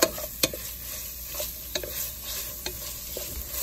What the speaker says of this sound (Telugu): ఒక 2 టీ స్పూన్స్ కర్రీ పేస్ట్ వేసుకొని బాగా కలిపి మళ్ళీ ఇంకొంచెంసేపు మూత పెట్టండి